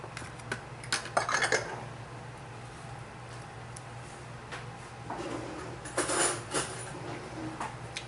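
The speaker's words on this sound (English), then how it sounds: "So I simply just grab a fork" A fork mixing salsa and almond butter filling in a bowl, soft scattered clinks and scrapes against the dish, quiet and close with gaps between strokes.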